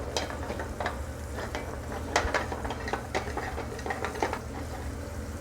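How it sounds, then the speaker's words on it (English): Compound butter sautéing in a hot skillet, a steady low sizzle with occasional stirring scrapes and clinks of a utensil against the pan, close and fairly quiet with no talking. "Saute that down."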